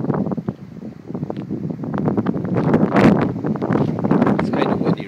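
Gusty outdoor wind buffets the microphone beside a parked 2002 Dodge Ram Quad Cab 4x4 pickup, producing loud, uneven rumbling bursts that swell and fade, with no clear speech over it.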